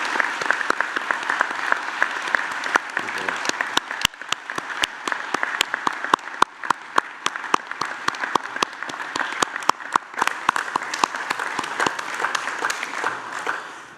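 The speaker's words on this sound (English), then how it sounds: "join me in applauding the wonderful achievement of these graduates" A graduation audience at the University of Newcastle applauds the graduates, a sustained hall-filling wash of many hands with sharp individual claps standing out, steady for the whole stretch and fading slightly at the end.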